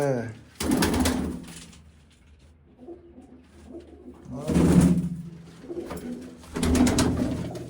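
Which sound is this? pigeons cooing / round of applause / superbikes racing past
pigeons cooing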